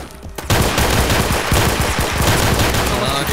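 Dense, loud automatic gunfire in Roblox Phantom Forces erupts suddenly and keeps going as a rapid, overlapping barrage of close shots for several seconds, with the crackle of many rounds blending into a continuous roar.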